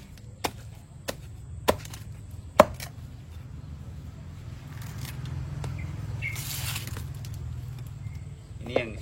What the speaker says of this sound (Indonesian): langkah pertama kita akan potong sabut ini sesuai dengan ukuran yang kita kehendaki